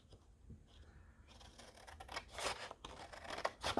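Scissors snip out paper dolls from a fashion magazine, a close, quiet series of crisp cuts and paper rustles that grows busier toward the end, with no one speaking.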